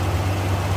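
A 1970 Cadillac DeVille V8 idles steadily with the hood open, a low, even rumble heard alone and close for under a second.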